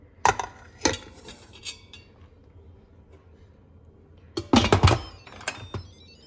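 Two metal containers are set down inside an Instant Pot with water, giving a few sharp clinks and knocks early on and then a cluster of clattering bumps after a quiet pause.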